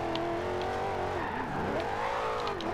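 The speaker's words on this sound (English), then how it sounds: "we're doing burnouts in the middle of the street" In the Forza Horizon 2 racing game, a Corvette ZR1 does a street burnout, its engine revving hard and wavering in pitch over a continuous tire squeal, close and loud throughout.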